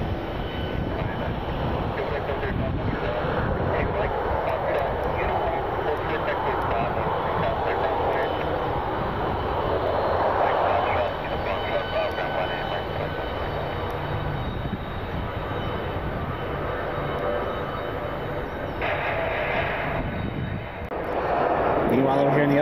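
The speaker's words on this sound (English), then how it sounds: "So we got another heavy coming in." A heavy jet airliner arriving at Detroit Metro Airport, its engines a broad, steady roar that stays loud throughout and swells near the end, with a person talking over it at times.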